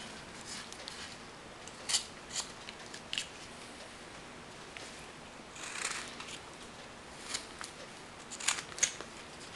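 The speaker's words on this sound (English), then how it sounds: "Now, I'm going to cut a little bit more here." A carving knife cuts into a wooden hobo figure with faint, sharp, close-up slicing snicks at irregular intervals over a quiet background.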